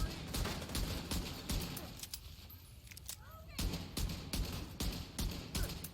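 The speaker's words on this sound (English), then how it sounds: "This pistol does a million damage." Pistol gunfire from the video game The Division 2, heard as repeated sharp shots in a fast broken rhythm with a brief lull midway, layered over game noise and some talk.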